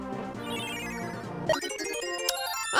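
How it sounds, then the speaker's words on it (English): A cell phone ringtone from Kirby Super Star Ultra plays a short bright melodic jingle, loud and alone, with a busier burst of tones toward the end. "Ah, I found a cell phone."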